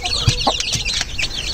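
Chickens and many chicks in a coop, close clucks and high peeping chirps overlapping in a busy cluster.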